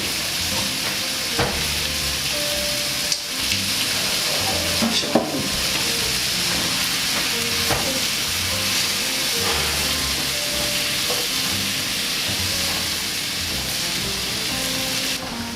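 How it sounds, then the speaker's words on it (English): Mushrooms fry in a pan for a Moroccan peri peri veg pasta, giving a steady, loud sizzle with occasional stirring clinks and scrapes throughout. No one speaks. "So I'm gonna add in my mushroom. To get that cooked up."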